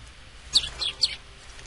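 Sparrows in the video game Harvey's New Eyes give a few short, high chirps in quick succession, fairly clear over a low background hum.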